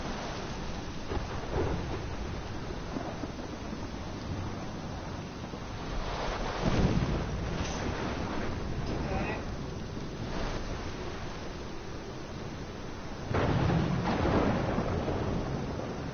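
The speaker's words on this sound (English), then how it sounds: "This is my storm." A thunderstorm rolls through the Life is Strange video game, a steady wash of heavy rain and wind with deep thunder rumbles swelling twice, while a voice speaks faintly underneath.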